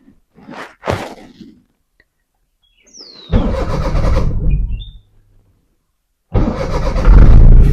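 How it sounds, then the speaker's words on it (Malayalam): A car engine starts twice during a driving-test practice session: a few faint clicks come first, then a loud crank catches into a close idle that stops, and a second start follows near the end. "വണ്ടി സ്റ്റാർട്ട് ചെയ്തു വണ്ടി സ്റ്റാർട്ട് ചെയ്ത്"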